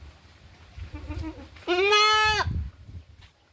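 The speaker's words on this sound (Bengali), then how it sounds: "এই যে বাচ্চা একটা কোয়ালিটি ফুল বিটল ছাগল ব্ল্যাক কালারের" A black full Beetal goat kid lets out one loud, close, wavering bleat lasting under a second, with quieter rustling and low background noise before and after.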